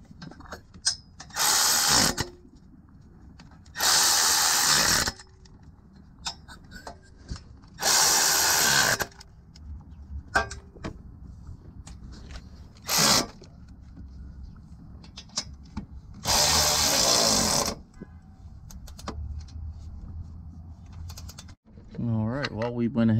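A power tool tightens down the passenger-side header on a car. It fires in several loud, separate bursts of whirring and ratcheting, with quieter handling and mechanical clatter between them.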